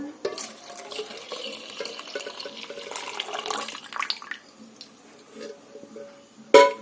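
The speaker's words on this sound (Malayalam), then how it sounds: "നമുക്ക് ഇതിലേക്ക് 1/2 ലിറ്റർ പാല് കൂടെ ചേർത്ത് കൊടുക്കാം." Half a litre of milk poured into simmering semiya payasam, a wet, uneven splashing and gurgling that rises and falls, ending in a sharp clink.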